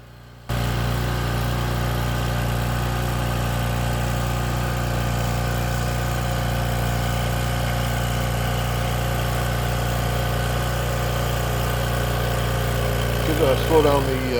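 A Case Ingersoll tractor engine runs steadily at a low, even idle-like drone while driving a hydraulic rototiller, with a constant mechanical hum throughout and a slight rattle near the end.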